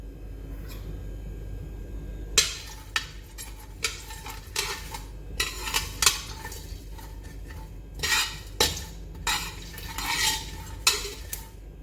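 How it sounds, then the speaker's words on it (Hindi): Cumin and two green cardamom pods dry-roasting in a kadhai, stirred with a spoon: repeated scraping and clinking strokes in irregular bursts over a quiet background, close and fairly loud, with no talking. "हमने एक कढ़ाई ले ली है, उसमें अब ज़ीरा शामिल करेंगे और 2 हरी इलायचियाँ शामिल करेंगे। अब इसे ज़रा सा भून लेंगे"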